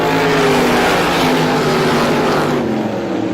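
Loud, continuous roar of several 350-powered Super Modified race cars running together at speed around a speedway oval during a heat race, the engine drone holding steady throughout.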